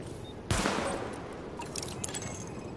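In the video game Tom Clancy's The Division, a sidearm fires at highlighted targets: one sharp, fairly quiet shot rings out, followed by a few faint clicks and a low, constant background hum.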